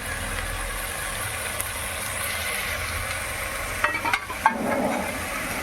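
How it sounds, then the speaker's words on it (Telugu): Spices and tomatoes fry in a pan, a low steady sizzle that rises into brief louder bursts of stirring and crackling near the end. "గరం మసాలా ధనియాల పొడి మిరప్పొడి ఉప్పు సాను ఇందులోకి వేసి బాగా వేసుకొని వేయించుకోవాలి"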